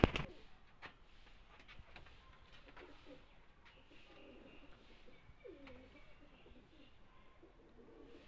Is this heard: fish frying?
no